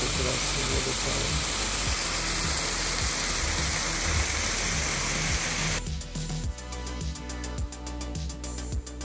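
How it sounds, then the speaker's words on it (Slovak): Rushing mountain waterfall near San Bernardino Pass, a steady broadband roar filling the scene; a loud low rumble runs underneath, and the water's texture shifts near the end. "A aký to krásny vodopád."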